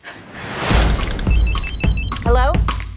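A waterproof mobile phone rings with a bright, repeating electronic tone. Voices talk over it, and there are thumps and clattering around it.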